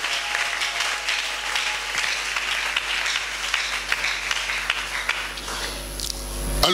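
A church congregation applauding, a dense steady wash of many hands clapping throughout, building toward the end, with no talk over it.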